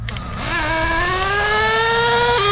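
A Losi LST nitro RC truck fitted with a Dynamite .28 engine revs up and climbs in pitch, then drops briefly near the end as the two-speed shifts. The whine is loud and close, with no voices.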